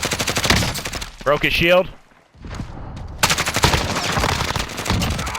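Rapid automatic gunfire rattles in Call of Duty Warzone, loud and close, in bursts before and after a short pause, while a player speaks briefly.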